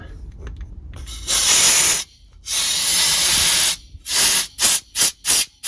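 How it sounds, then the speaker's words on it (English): Compressed air blasting degreaser out of the vent bolt on a Unimog U3000 portal axle: a loud, close hiss in two long bursts, then several short rapid puffs. "we just put degreaser in there, and we are now going to blow this thing out."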